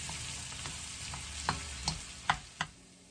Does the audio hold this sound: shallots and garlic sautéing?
yes